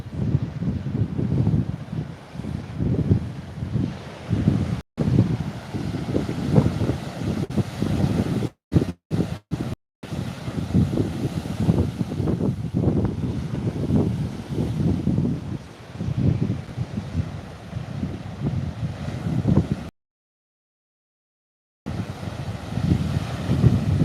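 Steady outdoor wind by the water buffets the microphone in broad, rumbling gusts, with surf-like low noise running throughout and a couple of brief dropouts near the middle and end.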